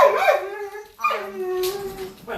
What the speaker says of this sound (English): his dog is going crazy